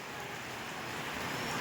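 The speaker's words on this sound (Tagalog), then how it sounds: "Ang lakas ng ulan oh." Heavy rain falls in a steady, dense hiss, soft in level and continuous throughout the short stretch.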